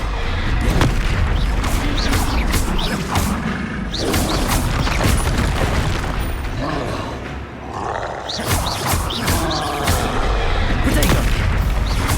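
The Depulso spell cast during combat in the video game Hogwarts Legacy, a loud, dense wash of booming blasts and roaring impacts rolling continuously, with a brief dip before the barrage surges again.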